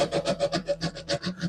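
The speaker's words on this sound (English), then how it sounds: "I made this little sanding helper to kind of help me sand this a bit" A wooden surfboard being sanded by hand with a homemade sanding block, quick back-and-forth scratchy strokes repeating about eight times a second, close and fairly quiet.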